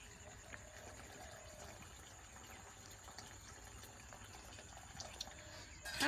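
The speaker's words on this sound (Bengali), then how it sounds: "ঠান্ডা পানি দিয়ে বুটটা ধুয়ে নেবো।" Boiled chickpeas are rinsed under cold running water, a steady rushing flow that stays fairly even throughout, with a brief louder splash at the very end.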